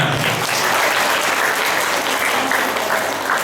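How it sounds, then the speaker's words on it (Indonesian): Dense, loud applause from a seminar audience, continuous clapping filling the whole stretch without a break and little talk on top. "tepuk tangan dulu buat kita"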